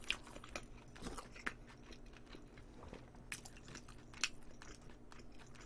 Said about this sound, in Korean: 오늘은 진짜 천천히 먹고 있어